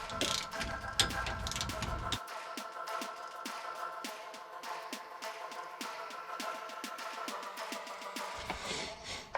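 A torque wrench ratchets in rapid, repeated clicks as it tightens the drain and fill bolts on a Ford Raptor rear differential cover, close up and crisp with a brief pause between bursts, and no one speaks.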